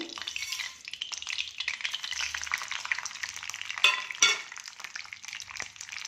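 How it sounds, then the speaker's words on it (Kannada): Spices and a dried red chilli crackle and sizzle in hot oil for tempering, a dense hiss with sharp pops and occasional stirring clatter, close and steady, no voices. "ಇದನ್ನು ಒಗ್ಗರಣೆಗೆ ಹಾಕೋಣ ಇವಾಗ ಎಣ್ಣೆ ಕಾದಿದೆ"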